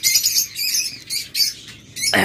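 Caged pet lovebirds, cockatiels and budgerigars at a bird sale, screeching and chattering loudly up close in repeated shrill bursts, with a harsh noisy burst at the end.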